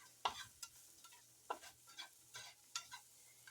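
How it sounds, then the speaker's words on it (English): Minced garlic and onions stirred in a sauteing pan, with several soft scraping strokes at an irregular pace and a light sizzle underneath, close and fairly quiet. "Mix that around"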